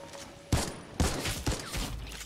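Weapon gunfire in a video game, several loud bursts of shots about half a second apart, each sharp onset trailing into a dense rattle, close and dominant with no talk over it.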